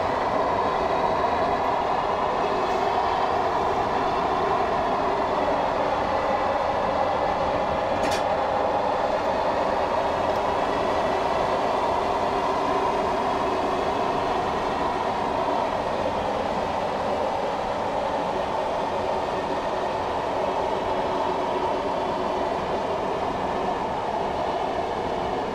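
Class 421 electric train coasting and then braking in Train Simulator 2018 on the Tonbridge to Hastings line, giving a continuous loud rolling rumble with a faint brief squeal, and no talking.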